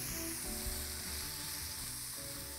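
Vegetables frying in a pan for a fluffy orzo pilaf, a continuous close sizzle with soft stirring scrapes underneath.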